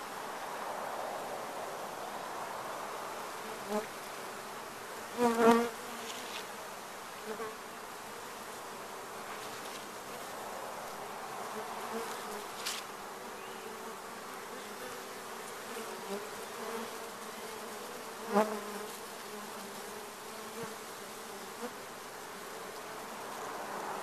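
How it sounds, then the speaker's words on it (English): A nice-sized swarm of bees clustered and hanging on each other during a bee removal in Los Angeles, giving a steady close buzzing drone throughout with a few brief louder bumps, no talking. "It's a nice sized swarm here."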